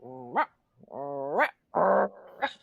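A dog growls and whines in short rising bursts, then gives a loud harsh bark, heard close and alone in a quiet indoor space.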